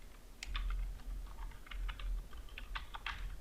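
Quiet typing on a computer keyboard, a quick uneven patter of key clicks in short bursts with no talking.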